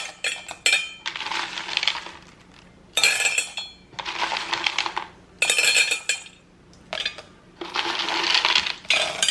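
Christmas-colored M&M candies poured into a glass cookie jar, making a few bursts of rattling, clinking cascades that come in short spurts with brief pauses between.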